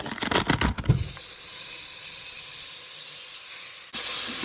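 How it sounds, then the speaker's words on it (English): Vegetable oil spread melts in a pot with a steady close hiss and sizzle that follows a few clattering knocks at the start and runs on evenly. "I'm going to put this in my pot and let it melt down"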